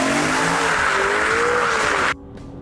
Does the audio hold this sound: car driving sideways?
yes